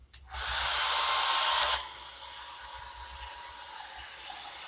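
A hair dryer blows on freshly chalk-painted furniture, a loud steady whirring hiss for under two seconds before it cuts off, leaving a faint quiet background.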